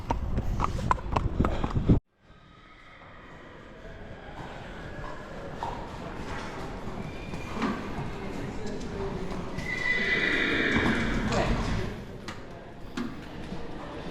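Horses at backpens whinny and neigh with hooves clip-clopping, loud at first, then a sudden cut to a quieter, steadier stretch of muffled hoof and animal noise with faint background activity; people talk around them.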